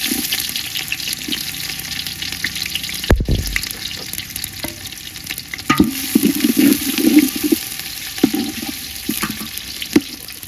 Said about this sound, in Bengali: তেল গরম হয়ে গেছে, আমরা এখন দেব পেঁয়াজ।